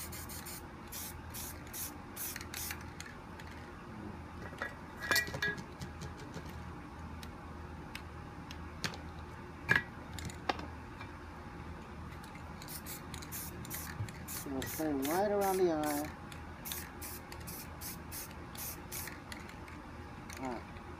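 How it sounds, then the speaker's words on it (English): Short hissing bursts of white spray paint on spray paint art come in quick pulses with pauses between, alongside a voice speaking briefly and faint rattling of the can. "we're gonna spray white around it"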